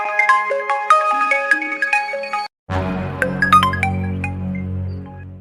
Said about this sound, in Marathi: फोन आला गड्या